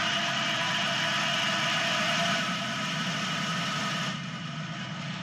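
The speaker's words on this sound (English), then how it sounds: "Engines full power and liftoff." Falcon 9 rocket engines at full power during liftoff from the Space Coast, carrying a Cygnus spacecraft: a steady, dense, broadband roar that holds evenly throughout with no speech over it.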